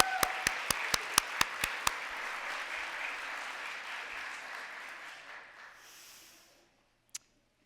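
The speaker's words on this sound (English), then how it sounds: "Let's give them a round of applause." Applause from an audience at a community organizing kickoff meeting fading out over several seconds, with a few sharp, evenly spaced claps at the start and a single knock near the end.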